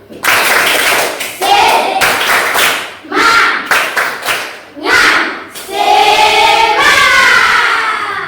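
Loud primary school class clapping in a rhythmic pattern, several bursts of many hands, with children's voices shouting and chanting between and over the claps.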